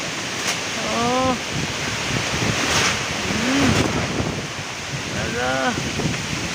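Strong wind buffeting a small church gusts and rushes in a loud, continuous roar, with a voice calling out over it several times.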